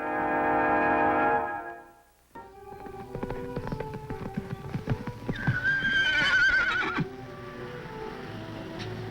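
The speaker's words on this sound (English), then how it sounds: "a great wild horse and the only person on earth who can ride him" A great wild horse whinnies loudly with a long, wavering neigh amid close, irregular hoof clip-clops and stamping, the movement continuing steadily throughout.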